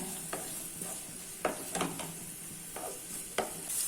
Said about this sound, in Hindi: अभी इसमें फाइनली चॉप किया हुआ ऑनियन ऐड कर लेना है और मिक्स कर लेना है।